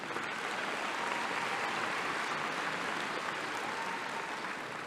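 An audience at a community college commencement claps for faculty and staff, a dense, even wash of applause from many hands that holds steady for several seconds with no voice over it.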